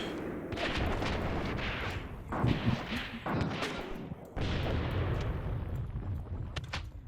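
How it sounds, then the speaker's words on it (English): Machine guns rattle in the war game Graviteam Tactics, loud sustained bursts of gunfire with heavy booming impacts, broken by brief pauses and sudden restarts. "Machine guns here shooting at"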